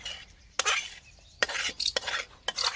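Spoon stirring lemon juice into a pan of garlicky bhungla batata potatoes, giving a few scraping, clattering strokes in quick bursts, close and fairly loud with no talk.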